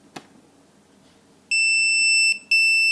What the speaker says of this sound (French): pas d'interrupteur sur la radio pour activer le bip, le buzzer du drone